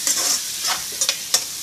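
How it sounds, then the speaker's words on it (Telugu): Sliced onions and green chillies fry in hot oil with a continuous bright sizzle, cut by a few quick scraping stirs of a spatula, close and fairly loud. "ఇప్పుడు అదే ఆయిల్లో ఆనియన్స్ అయితే వేసేసుకుందామండి."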